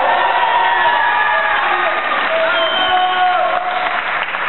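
An audience at the 2017 Picalletres Pirineus final, a school spelling contest in La Seu d'Urgell, claps with cheers and whoops over a continuous roar of applause, loud and close throughout.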